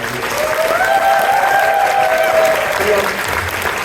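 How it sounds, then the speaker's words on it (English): A convention crowd at the ConFuzzled 2023 closing ceremony applauds, sustained clapping under a loud voice that talks over the top through most of the stretch. "can I get a round of applause for my puzzle master, Kinzo"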